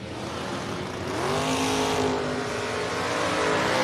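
A 1963 Corvette and a Mustang launch in a drag race, a loud engine roar rising in pitch as the cars accelerate away from a nearby spot.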